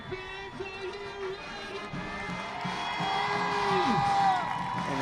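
A football stadium crowd of Bulldog and Diamondback fans at a Laredo Alexander vs Sharyland Pioneer high school game cheers and claps steadily and swells louder toward the end, under a public address announcer's voice.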